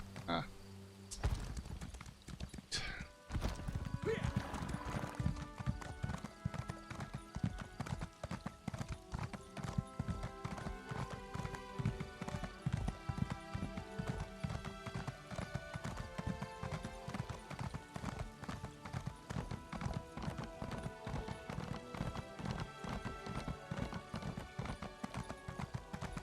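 Horse hooves clip-clop in steady, continuous rhythm while riding in the video game Elder Scrolls Online, High Isle, the animal tired; dense game music or ambience runs underneath throughout.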